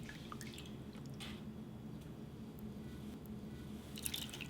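Water drips and trickles from freshly washed, soaked mung beans, soft scattered splashes and small squishy wet sounds close by, fairly quiet with no talking.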